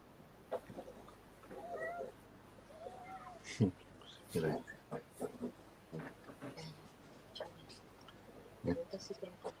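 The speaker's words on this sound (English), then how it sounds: "I thought I heard a cat there for a second" A cat meows a few times during a live online chat, the calls short and somewhat distant, mixed in among people talking over a faint background hum.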